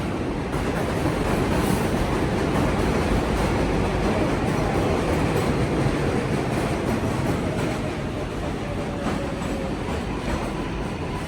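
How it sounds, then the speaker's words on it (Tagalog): A train rumbles past in New York City, a loud, dense roar with rattling wheels that stays close and continuous for around eleven seconds. "Saba kay train!"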